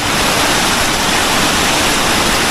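Water rushes steadily near the Kondana caves, a loud, dense, unbroken roar of flow close by, with no voices over it.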